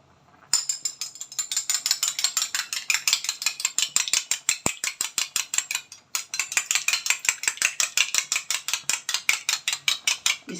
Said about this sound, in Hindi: इसको अंडे को इस तरह फेंट देंगे।